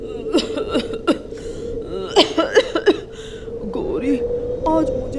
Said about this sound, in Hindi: आज मुझे भी खांसी आ रही है